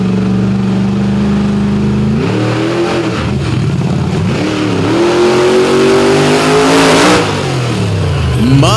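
A drag racing car at a Benson, North Carolina night event blasts off the line, its loud engine climbing through rapid gear changes as it pulls away down the strip, with an announcer's voice faint beneath.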